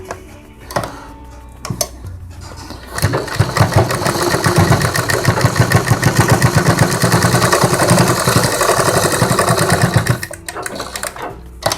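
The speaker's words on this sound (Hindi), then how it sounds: "यहाँ से बिल्कुल यहाँ तक अच्छे से सिलाई लगाएंगे" Sewing machine stitching fabric for a fabric flower latkan, a loud close whirring run with a fast steady mechanical chatter lasting several seconds, framed by handling clicks before and after.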